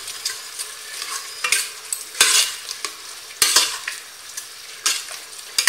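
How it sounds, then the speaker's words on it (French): Raisins sauté in a tajine sauce for a lamb mrouzia, stirred constantly. A steady sizzle runs underneath while a spoon scrapes the pan in repeated loud strokes, close and with no talk. "je fais revenir mes raisins secs dans ce mélange pendant 5 minutes en remuant constamment"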